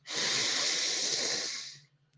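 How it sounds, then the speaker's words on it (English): During a breathwork exercise, one long, deep inhalation draws in steadily for about two seconds, a close, breathy hiss that cuts off abruptly into near silence. "take a deep breath all the way in, filling up the lungs"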